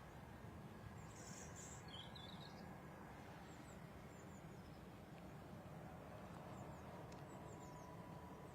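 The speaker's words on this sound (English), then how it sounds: "but also the lovely bird tweeting" Faint bird chirps and tweets scattered over a steady low rumble of distant aircraft engine noise at London Stansted Airport, with small calls recurring every few seconds.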